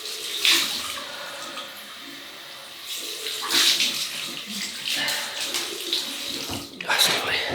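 Water from a tap runs steadily into a pottery bowl for rinsing a face after a shave with a stainless steel safety razor and alum, with splashing bursts as water is scooped and rinsed, close up with no talk.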